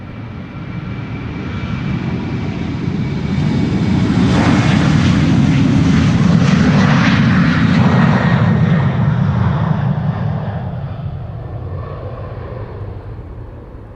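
A KLM Cityhopper Embraer 190 jet departing Amsterdam Schiphol for Birmingham swells from a distant rumble to a loud close roar as it passes, then trails off into a fading whine.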